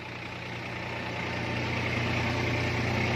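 Tractor engine under load driving a Shree Ganesh thresher, a steady heavy diesel drone and mechanical hum that swells slightly in loudness, close and continuous with no speech.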